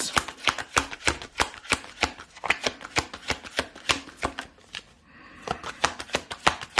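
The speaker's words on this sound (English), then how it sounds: "Let's pull some confirmation cards for Scorpio" Tarot cards being shuffled and pulled, a close run of crisp rapid riffling flicks in a steady rhythm, pausing briefly before the quick card snaps resume.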